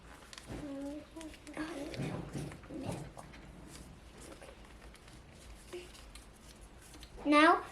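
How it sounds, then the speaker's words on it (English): Origami paper folded by hand into a half-sheet crease, soft papery rustles and brief crinkles under a voice giving instructions. "take both of your half papers and fold one of yours"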